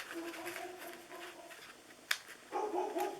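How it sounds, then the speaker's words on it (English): Dog barking indoors at a crafting table, a few short barks with a sharp yelp near the middle, fairly faint against room noise. "Of course, my dog is going to bark."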